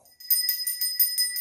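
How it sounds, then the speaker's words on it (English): A small altar prayer bell, as used at a Hindu or other home altar, rung in a quick series of about seven bright, ringing strikes that overlap into a shimmering, sustained metallic tone, close and clear with no talking. "I would ring the bell to signal that I am here."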